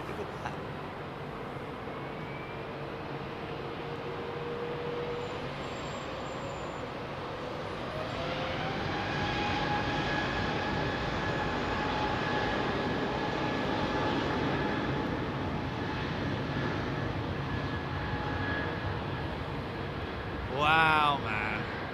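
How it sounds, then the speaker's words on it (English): Two Qatar Airways jets depart one behind the other, a steady, loud jet roar with whining engine tones that builds and holds close by, then a brief higher rushing burst near the end. "Is that two Qatar jets coming out, one behind the other?"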